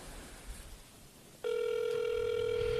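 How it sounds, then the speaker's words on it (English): A landline telephone ringing during a prank call, a steady electronic ring tone that starts halfway through and holds loud and close after a stretch of quiet room noise. "you better pick up this phone"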